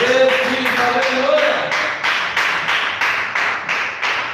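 A church congregation claps together for Jesus during a gospel service, a steady rhythmic unison beat of about two claps per second, loud and close, with singing or voices under the opening seconds.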